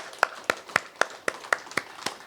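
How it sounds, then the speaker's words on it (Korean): A church congregation at a Korean Sunday afternoon praise service claps together in unison, eight sharp, evenly spaced claps of about four per second, with no talking. "우리가 하나님께 감사와 영광의 박수를 올리기를 원합니다."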